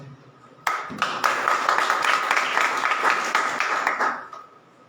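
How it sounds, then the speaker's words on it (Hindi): Loud applause from a congregation at a church prayer meeting, a burst of many hands clapping that starts suddenly, holds steady for about three seconds, then fades out. "जोरदार ताली दे सकते हैं।"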